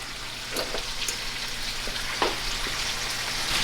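Chicken browning in a cast iron pan on a stove turned up high gives a steady close sizzle, like light rain, with a few brief ticks and pops scattered through it.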